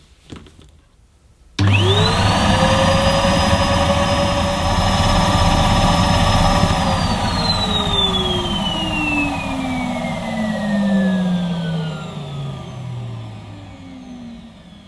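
A Henry vacuum cleaner switches on abruptly and runs loud and close during a sealed suction test with a tapered hose, its motor whine rising quickly to a steady high pitch before gradually winding down.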